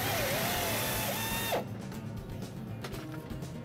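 A power tool whirs loudly and steadily, then cuts off, leaving quieter clicking and ratcheting as a bracket bolt for a Kleenoil filter on a Cummins engine is tightened by hand nearby.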